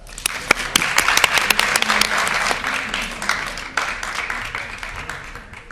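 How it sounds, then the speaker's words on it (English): Audience at an Erasmus+ student debate on sustainability applauding the debate teams: loud, crisp clapping from a room of people, strongest early and then slowly thinning toward the end. "Applause. Well done."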